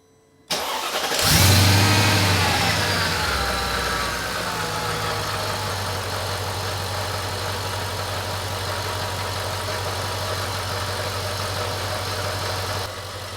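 A Mercedes E55 supercharged engine fitted with a cold air intake cranks and fires up with a loud surge, then settles into a steady, close, even idle with a continuous low rumble and faint whine.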